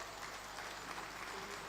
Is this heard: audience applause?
yes